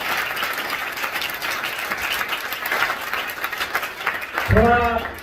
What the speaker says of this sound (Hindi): मैं 2000 तालियों के साथ उनका अभिनंदन करना चाहता हूँ